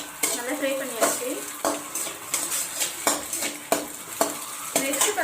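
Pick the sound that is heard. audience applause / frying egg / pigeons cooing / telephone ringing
frying egg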